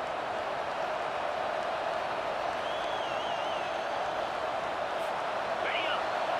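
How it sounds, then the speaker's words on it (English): A football stadium crowd roars behind the home defense on third down at Indiana at Nebraska, a dense, steady wall of noise that holds loud throughout, with a faint whistle in the mix. "Decibels rising as the crowd gets behind this defense on third down"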